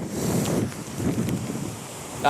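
Hurricane Irma wind gusting beneath the Indiantown Road Bridge, a steady roar buffeting the microphone with surging rushes, loud and close.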